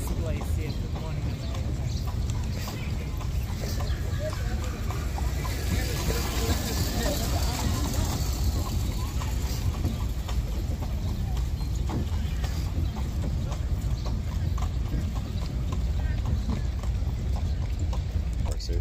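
Horse hooves pulling a carriage clip-clop steadily on a hard street in Central Park amid a busy outdoor background of voices and traffic, the rhythmic clatter continuing throughout.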